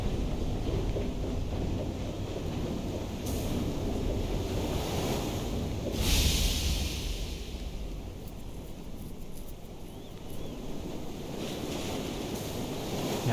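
Steady wind rushing over open sea in the video game Far: Changing Tides, with a continuous wash of waves and surf, one brief louder gust midway, no talking.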